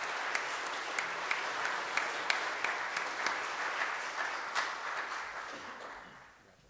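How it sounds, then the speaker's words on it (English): A church congregation applauds during Sunday worship as a graduating senior is introduced; scattered sharp claps ride over a steady wash of clapping that fades out toward the end. "Our first senior this morning, if you give him a round of applause, is Eli Kennel."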